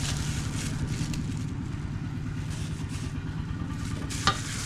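Food being stirred as it fries in a pan, with a steady, close sizzle and scraping throughout and one sharper clink near the end.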